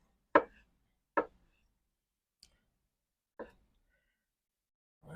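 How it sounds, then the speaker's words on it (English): A knife cuts sausage into quarters on a cutting board, giving four sharp, separate chopping knocks with quiet gaps between them. "So we'll cut these up into, say, quarters for this sausage here."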